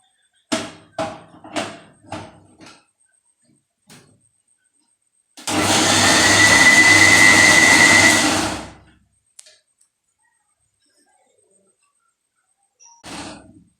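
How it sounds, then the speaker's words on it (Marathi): A mixer grinder whirs loudly at high speed for about three seconds while grinding corn kernels, set between a few short knocks and taps before and after. "आता हे मक्याचे दाणे बारीक करून घेऊ."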